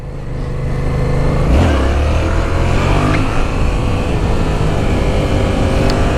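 A 2015 Yamaha FZ-07 motorcycle engine, ridden in second gear, rises sharply in revs for a wheelie and holds a loud, close, steady growl through the rest of the ride.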